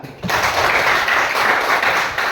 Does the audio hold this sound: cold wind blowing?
no